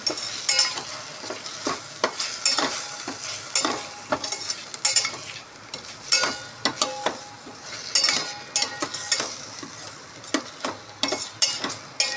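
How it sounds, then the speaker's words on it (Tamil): Ingredients sautéing in a pan, with repeated stirring strokes and scrapes of a spoon over a soft continuous sizzle, each stroke a sharp burst in an irregular rhythm. "வதக்கி விட்டுக்கலாம்"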